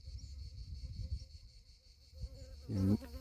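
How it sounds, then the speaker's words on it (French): A wasp buzzes faintly in the open air while walking on a countryside trail, a thin steady drone under low background noise, then swells into a louder close pass near the end. "Ah non, hé, une guêpe."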